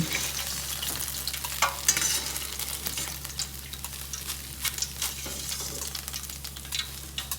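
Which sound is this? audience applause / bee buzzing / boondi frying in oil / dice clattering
boondi frying in oil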